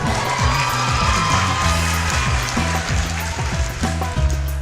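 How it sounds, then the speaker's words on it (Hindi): A studio audience on an Eid television show claps and cheers for an actress as she comes on, a loud crowd roar of hands and whoops over a pounding rhythmic bass beat that runs throughout. "बहुत सारी तालियां"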